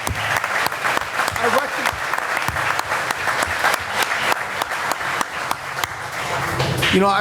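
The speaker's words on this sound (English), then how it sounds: "I want to give that a round of applause for Grace and family" Council meeting audience applauds steadily for several seconds, a dense wash of clapping from a room of people that swells slightly near the end, with faint voices mixed in.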